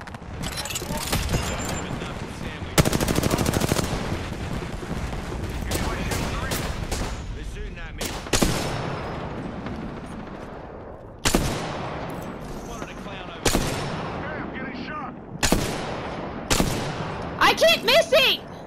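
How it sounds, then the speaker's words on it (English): Gunfire in Apex Legends: repeated bursts of automatic weapon fire and single sharp shots, loud and close, coming in irregular clusters with brief pauses between. "I'm getting shot at."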